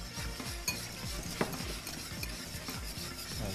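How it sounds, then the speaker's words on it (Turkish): Spoon stirring milk pudding with hazelnuts in a pot, a steady rhythmic scraping and swishing with faint sizzle-like bubbling and occasional soft clinks of utensil on metal, close and continuous. "yavaş yavaş güzelce bir ne yapıyoruz? Karıştırmaya devam ediyoruz"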